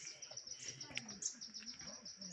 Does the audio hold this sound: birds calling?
yes